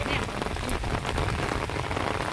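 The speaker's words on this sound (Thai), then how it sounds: "โอ้ฝนตกพี่น้องเลย" Steady rain pours down on a riverside setting along the Mekong during a traditional fishing trip, a continuous dense hiss of drops with no breaks and no voices.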